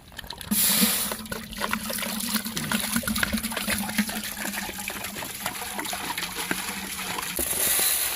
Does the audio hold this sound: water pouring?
yes